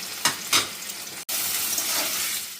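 Paneer frying in a pan gives a steady, close, bright hiss, with two quick louder spatters early on and a brief dropout midway, and no voices.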